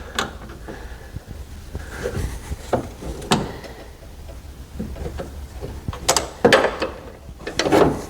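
A half-inch ratchet tightens a nut on the wiper motor of a 1984 Chevrolet C10 square body pickup, giving irregular bursts of close clicking and metallic handling noise in a quiet shop.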